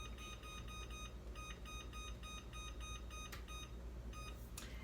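A kitchen oven timer beeps in quick, regular bursts, repeating steadily and quietly over a low background hiss, with nobody speaking.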